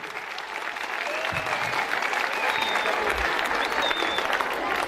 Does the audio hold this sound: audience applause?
yes